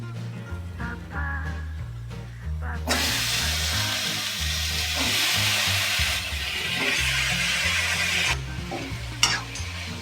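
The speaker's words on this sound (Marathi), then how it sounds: "आता आपण बटाटे टाकूया." Potatoes tipped into a hot spiced tempering for Maharashtrian batata bhaji set off a loud, steady frying sizzle a few seconds in, with stirring; it carries on alongside a low tonal background.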